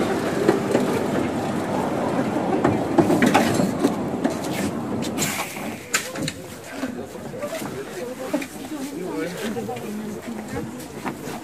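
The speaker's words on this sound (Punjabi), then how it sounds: "ਆਹ ਛੋਟੀ ਟ੍ਰੇਨਾਂ ਨੇ, ਅਤੇ ਇਹਦੇ ਵਿੱਚ ਹੁਣ ਆਪਾਂ ਬਹਿ ਕੇ ਜਾਣਾ ਆ" A small open tourist train rolls through Dresden, Germany, with a steady rumble and light clatter beneath people talking nearby.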